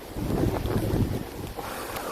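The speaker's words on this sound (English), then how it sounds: "I'm going to just hunker down from the wind here." Wind buffets the microphone outdoors in Golden Gate Park on a wet, stormy day, a steady low rumbling roar with gusty swells, no voices heard.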